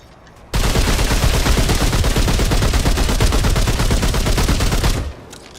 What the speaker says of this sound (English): we can test out our new weapon mod